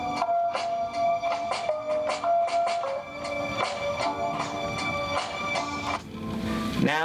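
A slowed-down, chill jazzy sample beat plays with drums, its muted keys and soft hits repeating in a steady loop at low volume before a brief final flourish.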